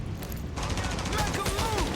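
Rapid gunfire in The Division Resurgence, a steady stream of close shots starting partway in, with voices talking over the shooting.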